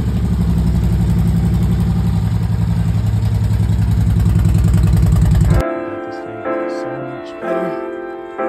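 A salvage Harley-Davidson Street Glide motorcycle engine, its exhaust leak repaired, runs loud and close with a steady, pulsing rumble, then cuts off abruptly, leaving quieter clatter and brief talk.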